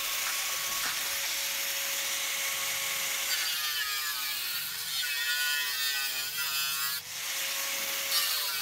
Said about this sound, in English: Let's get the angle grinder.